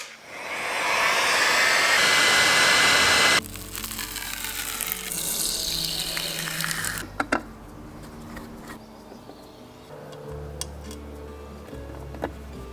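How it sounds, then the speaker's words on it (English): A heat gun roars loudly with hot air for a few seconds while warming adhesive on an electric unicycle foot plate, then cuts out, followed by quieter handling, scraping and clicks nearby. "do this using a heat gun"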